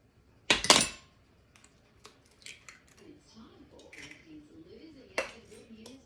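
A single egg is beaten into salmon patty mix in a bowl, a sharp clink of utensil on dish followed by scattered light scrapes and taps, while someone talks quietly.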